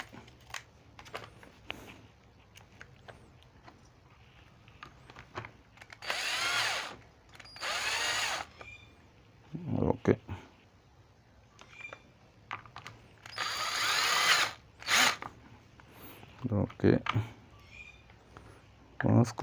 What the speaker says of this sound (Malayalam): നമ്മൾ വേറെ രണ്ട് സ്ക്രൂവും കൂടി ഇടുകയാണ് ചേരുന്ന രണ്ട് സ്ക്രൂ